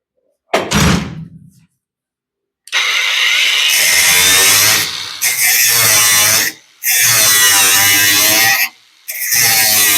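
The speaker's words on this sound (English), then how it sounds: "I really like this grinder." An angle grinder works welded sheet-metal trim on a 1941 Ford Supercab conversion. A short knock comes first, then loud, high whining grinding runs in three long bursts with brief pauses.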